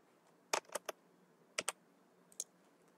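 Quiet, close keystrokes on a computer keyboard come in short bursts of two or three clicks separated by pauses, with a faint background hiss.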